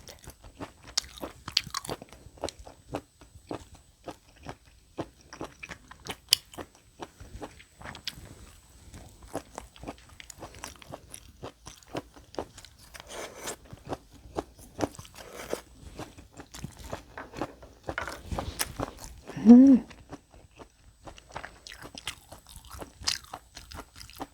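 Abalone eaten with garlic is crunched and chewed close to the microphone, giving irregular wet bites and mouth clicks over a quiet room, with one louder burst near the end.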